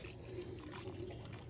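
Fuel pours through the vent into a houseboat motor's tank, a continuous soft liquid gurgle and splash heard close up for a moment.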